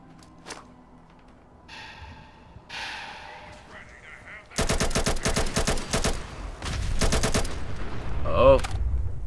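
Rapid gunfire rings out at a shooting range in the game Fallout 4, with an automatic rifle firing in fast dense bursts after a quieter stretch of game sounds, and a voice talking at the start.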